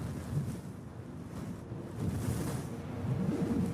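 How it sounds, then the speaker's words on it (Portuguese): Wind gusting across an exposed, drying lake shore where the plants have died back, a steady low rumble of buffeting air that swells louder in the second half, with no voices. "Sem essa resistência, o vento toma conta da paisagem."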